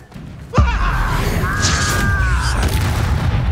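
A Confringo fire-blast spell explodes in Hogwarts Legacy with a single sudden, loud boom after a brief quiet lead-in, followed by a sustained crackling rumble and ringing magical tones.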